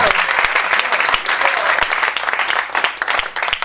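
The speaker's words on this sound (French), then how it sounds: "I want to clap for the Lord." A church-style gathering at an evening event breaks into sustained, dense applause from a crowd. The clapping is close and loud and runs unbroken the whole time.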